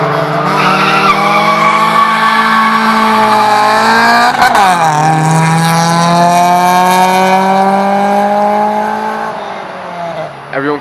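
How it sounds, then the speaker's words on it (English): Passing cars on a road rev their engines loudly in a sustained, rising and falling roar with strong harmonics, close by, with a brief tire-squeal-like sweep in the middle and no talking. "Everyone kind of revs their engine when they go by"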